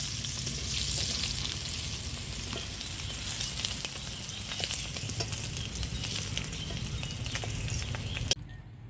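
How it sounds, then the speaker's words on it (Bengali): Prawns fry in a hot pan with a steady, close sizzle and crackle that holds for about eight seconds, then cuts off sharply near the end. No one speaks. "চিংড়ি মাছটা লাল লাল করে ভাজা হয়ে গেছে"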